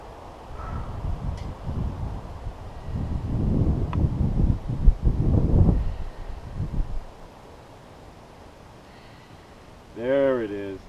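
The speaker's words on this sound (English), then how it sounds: "here comes the wind" Outdoor wind rushing across the microphone during an open-air yoga session, rising into a few loud, blustery gusts midway and then fading, with someone speaking over parts of it.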